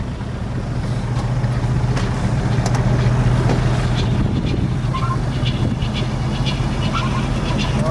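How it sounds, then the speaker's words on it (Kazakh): A 1972 Cadillac Sedan de Ville engine runs at a steady idle, a continuous low rumbling drone with a faint rattle, close by and fairly loud. "Біздікін моторын дауысы осылай шығады ғой примерно"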